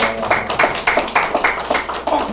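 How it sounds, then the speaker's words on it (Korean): Audience members clap together at a gathering, about ten fairly even claps over a couple of seconds, close and moderately loud with no talk over them. "우리 기영이의 박수 보내겠습니다"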